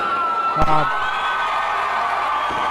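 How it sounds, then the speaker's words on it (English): A crowd at a grappling match cheers and whoops continuously in the background, with a brief shout rising near the start and a commentator talking over it. "Crowd's all fired up."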